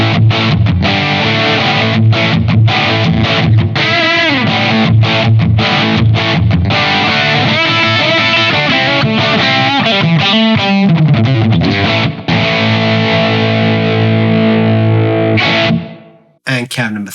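An electric guitar runs through a Blackstar AMPED 1 crunch tone with high gain on cabinet 2, playing loud, continuous distorted chords and riffs that ring out and decay near the end, followed by a brief restart.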